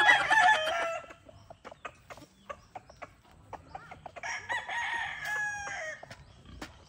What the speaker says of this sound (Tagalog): Magpapakain na nga siya ng aming mga kapatid, yung kanyang mga alagang mga panabong pala.